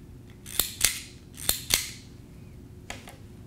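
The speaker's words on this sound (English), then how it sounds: "we can simply clean it up using this type of cleaner" A fiber optic connector cleaner is used on a dirty connector, giving sharp clicks in two pairs followed by two fainter clicks, close and alone.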